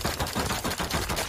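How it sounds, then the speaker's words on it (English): Rapid automatic gunfire from the survival video game Rust rattles in a quick, evenly spaced string of sharp shots over about a second, loud and close. "Gunfire?"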